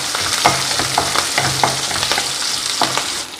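Small onions, green chillies and curry leaves sauté in a pan for a quick hotel-style sambar, giving a steady close sizzle broken by several sharp spoon scrapes and stirring clatters, with no voices.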